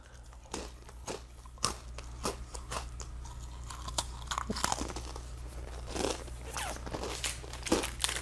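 Crunchy granola bar being bitten and chewed up close, a series of sharp, crackly crunches in an irregular rhythm over a quiet, low background hum, with no one speaking.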